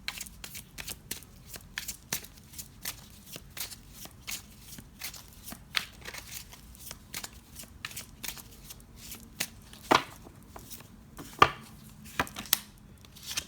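Tarot cards are shuffled and handled in soft, irregular slaps and flutters, close but quiet, with a few sharper card snaps toward the end and no one speaking.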